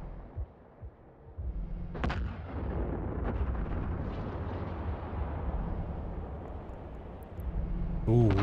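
Video game gunfire sounds as a series of booming, artillery-like shots with a sustained rumbling roar between them, heard at moderate level.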